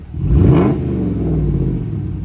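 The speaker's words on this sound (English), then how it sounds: "around town when you got an exhaust that sounds like this" A 2023 Ram 1500 pickup's exhaust revs up sharply into a loud throaty roar, then settles into a deep, rumbling drone close by.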